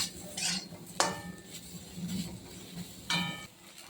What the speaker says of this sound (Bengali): তাই সয়াবিনটা একটু একটু লাল লাল করবো, একটু ভাজা